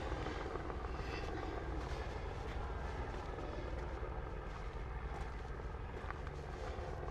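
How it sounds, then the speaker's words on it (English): Steady low rumble of a big yellow helicopter flying low nearby in Terrace, British Columbia, a continuous broadband drone with a faint chopping pulse, no voices. "a big yellow helicopter"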